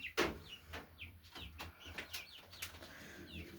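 Hen and rooster clucking softly nearby in short, irregular calls, with some light rustling and no speech.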